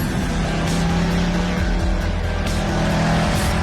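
A Dodge Challenger V8 roars loudly and steadily throughout, its engine note rising and sweeping as the car drives, with no voices over it.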